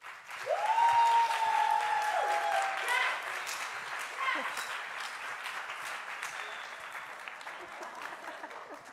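Audience applause and clapping fill the room as an artist named Tafy is welcomed to the stage at a 2022 art exhibition opening lecture, steady and sustained for several seconds with a brief sung or whooped tone near the start.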